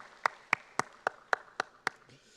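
A church congregation claps for the Hosanna choir at a Sunday worship service, with seven crisp, evenly spaced claps in unison and quiet room ambience between them.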